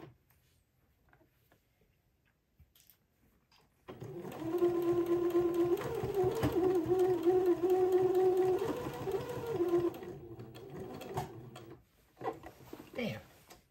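A sewing machine stitches back and forth to anchor a fabric tab, starting after a few seconds of near silence with quiet handling sounds, then running as a close, steady whirring hum with slight changes in speed before stopping, followed by a few small clicks.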